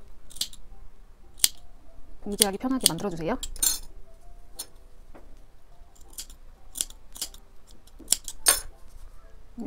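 Close, crisp scissors snips cutting notches into the curved edge of pajama fabric during sewing, several sharp bursts scattered through the clip with a short quick run near the start, while someone talks throughout.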